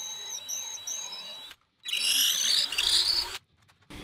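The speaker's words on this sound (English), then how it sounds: "get ready to drill for some dowels" A power drill bores dowel holes in pale wood, a close high-pitched whine running for about a second and a half, then after a pause a rougher, louder grinding burst as the bit cuts through, stopping abruptly, with no talk.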